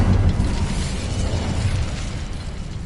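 An Incendio fire spell cast in Hogwarts Legacy gives a sustained, loud whooshing roar of flame with rumbling low boom, continuous for about three seconds and without talk.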